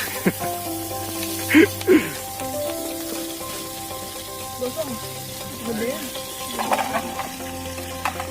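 Food sizzles and fries over a campfire in a mountain meadow camp, with steady crackling and hissing and a couple of louder sizzling bursts as it is turned with a wooden stick instead of a spoon.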